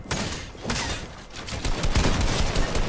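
Rapid bursts of gunfire in The Evil Within, dense overlapping shots with sharp broadband cracks and low thumps continuing throughout, loud and close.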